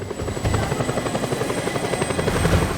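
An attack helicopter in the video game Just Cause 2 beats with a loud, steady rotor thump and engine drone, close and continuous with no talking over it.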